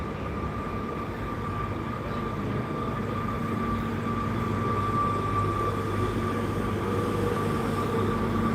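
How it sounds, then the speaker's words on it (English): A Great Western Railway train pulls away from Gloucester station, giving a steady, moderately loud rumble and drone with a sustained whine and no talking. "Train is moving"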